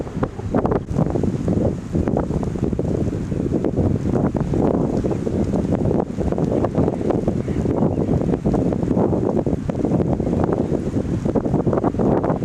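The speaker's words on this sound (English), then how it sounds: "It's getting really windy," Strong wind buffets the microphone in loud, continuous gusts outdoors during early-season waterfowl hunting, a heavy roaring rumble with no voices heard.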